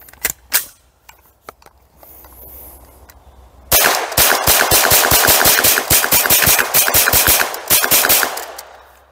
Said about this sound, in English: let's load up another magazine and see if we can do that again